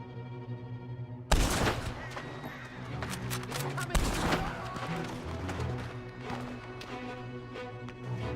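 Gunfire in Red Dead Redemption 2 erupts with a sharp crack, then more shots and a second loud burst follow amid busy game sounds and music, with faint talk underneath.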